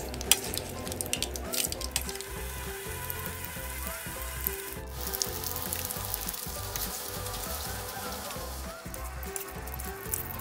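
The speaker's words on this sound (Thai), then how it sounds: "แล้วก็ทอดกล้วยของเราจนกรอบสุกเหลืองเสร็จเรียบร้อยนะครับ" Banana slices deep-fry in a pot of oil in a field kitchen, a dense continuous bubbling sizzle with a buzzing texture and some clinks, heard close and fairly soft.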